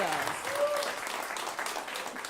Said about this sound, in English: Can we give our mayor another round of applause